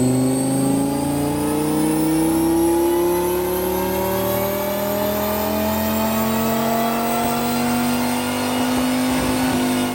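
A Dodge Viper GTS 8-liter V10 with a new exhaust system revs steadily upward on a dyno, its pitch climbing smoothly under load, loud and close with no talking.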